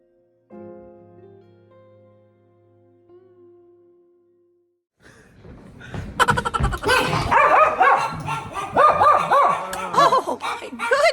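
Several small dogs bark and yip excitedly at close range, a busy overlapping burst that follows a quiet stretch with a soft tonal hum.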